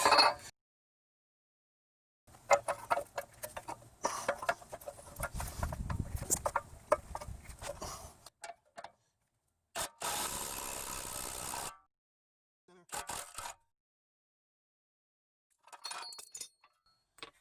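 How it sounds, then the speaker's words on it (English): Ball joint press tool forcing a worn ball joint out of the steering knuckle on a Honda Accord or Acura TL/CL suspension: bursts of metallic clinks and grinding creaks, then a sharp loud pop and a few scattered clanks, close and with no voices. "this is my press tool to press the ball joint out"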